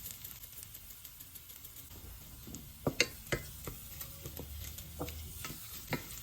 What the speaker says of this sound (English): Now the garlic's only gonna cook for about a minute until it gets slightly golden brown.